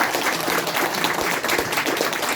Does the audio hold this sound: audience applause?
yes